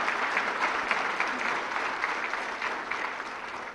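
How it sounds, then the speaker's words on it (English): Audience applause fills the hall at the inaugural session of a mineral summit ceremony in Pakistan, a steady, dense wash of clapping held at an even level throughout. "they truly deserve a big round of applause"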